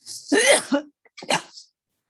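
A single close sneeze, a sharp burst, followed by a brief softer expulsion a moment later.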